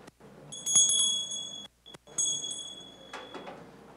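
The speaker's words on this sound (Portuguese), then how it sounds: "Deixa eu dar o sininho aqui." A small bell rings several times during an online class, giving bright, clear dings separated by short pauses, alone in a quiet room.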